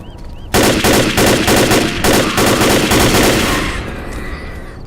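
Rapid automatic rifle fire in the video game Rainbow Six, a loud sustained burst of closely spaced shots lasting about three seconds before tailing off into a fading echo, with no talk over it.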